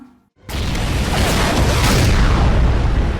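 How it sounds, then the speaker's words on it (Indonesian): In the film Rambo (2008), a sudden massive bomb blast erupts in a forest after a brief silence, then a loud sustained roaring rumble of debris and fire fills the rest of the clip. "bom pun meledak dengan dahsyat dan meluluhlantakkan daerah sekitar hutan"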